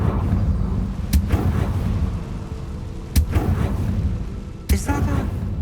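Confringo fire spell in Hogwarts Legacy going off as three sharp, loud explosive bursts spaced a second or two apart over a dense, rumbling game soundscape.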